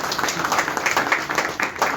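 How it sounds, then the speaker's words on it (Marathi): An audience applauds the achievers at a prize-giving ceremony for an online Gauri Ganpati decoration competition, with steady, dense clapping filling the room for a couple of seconds and no voices on top. "एकदा जोरदार टाळ्या तुमच्या सर्वांसाठी"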